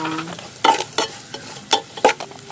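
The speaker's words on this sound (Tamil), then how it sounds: "அதையுமே நல்லா வதக்கி விட்டுக்கலாம்." Crushed garlic, cumin and black pepper sautéing in oil; a low sizzle broken by several sharp scraping strokes of a spatula at irregular intervals, close and fairly loud, with no voices.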